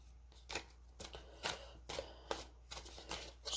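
Tarot cards being shuffled by hand in short, crisp riffling bursts that repeat roughly every half second, close and fairly quiet with no talking.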